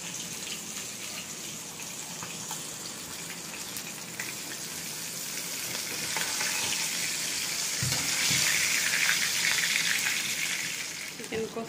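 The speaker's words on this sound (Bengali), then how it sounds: "মাছ ভাজছি" Fish fries in a pan with a soft, steady sizzle that swells in the second half, mixed with watery hissing and faint kitchen background.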